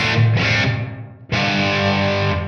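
Electric guitar chords ring through a reverb with its high-frequency decay turned down, one chord fading into a darkening tail before a second strum rings out and slowly decays.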